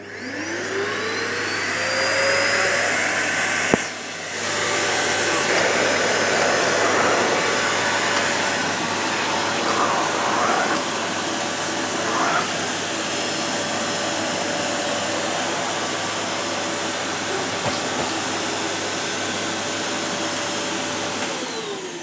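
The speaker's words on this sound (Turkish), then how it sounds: "Yatak odasını süpürelim önce." A vacuum cleaner runs steadily and loudly throughout, with a brief dip in power early on and a continuous whining motor drone, with no talk.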